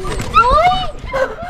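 Dogs whimper and yip in high, sliding whines, close by, with people talking loudly over them.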